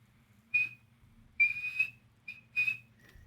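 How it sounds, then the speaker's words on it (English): A tiny whistle blown in four short, shrill tones of varying length, with quiet gaps between them, plus a faint fifth toot at the end over a low background hum. "You look over and you see he has this little tiny whistle"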